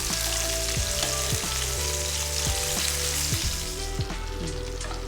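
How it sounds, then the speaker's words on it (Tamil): Marinated chicken pieces shallow-frying in oil give a loud, steady, crackling sizzle that fills the whole stretch without any talk. "ஷாலோ ஃப்ரை பண்ணாலே நல்லா டேஸ்ட்டாக தான் இருக்கும்."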